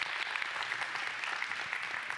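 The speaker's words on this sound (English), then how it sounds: "we already clapped for him, but let's do it again" A church congregation claps to welcome a guest speaker, a steady, moderately distant patter of applause without voices.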